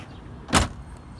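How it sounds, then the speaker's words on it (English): A single short whirring burst from an electric power window motor on a 1957 Ford Thunderbird with factory air conditioning, rising and fading within about a quarter second against a quiet background. "There's the power window."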